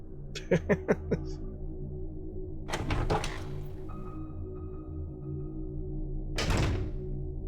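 A door opens in the Resident Evil 0 video game: a quick run of clicking latch thunks, then a heavy swooshing creak, and later a second sweeping whoosh, all fairly quiet against a low ambient hum.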